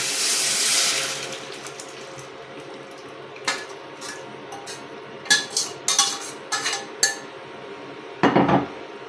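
Cooked jackfruit seeds are poured into a curry pan in a home kitchen, with scattered metallic clinks and knocks of utensils against the pan and splashing liquid against low background hum.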